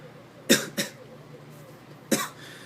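Three sharp coughs ring out close by, two in quick succession and a third after a short pause, against a quiet background.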